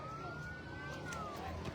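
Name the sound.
fire truck siren arriving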